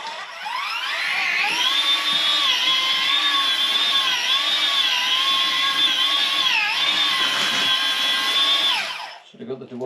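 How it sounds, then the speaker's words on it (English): Handheld power mixer churning hemp lime plaster in a barrel, a loud, steady high-pitched motor whine with slight pitch wobbles as the paddle meets resistance, cutting off abruptly near the end. "I can't get the mixer into it."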